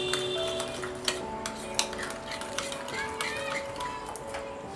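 Salt and black pepper get stirred into a vegetarian Russian salad in a bowl, light spoon clinks and ticking scrapes repeating against the dish over a faint background hum.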